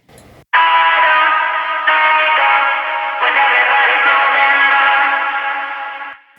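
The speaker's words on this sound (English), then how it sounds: "You can hear that this is an echo with a little bit of distortion." Vocal echo effect with a little distortion, a slippery processed sound of repeating, smeared voice with a gritty edge that rings loud and steady for about six seconds before cutting off.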